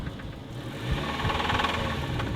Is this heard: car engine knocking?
yes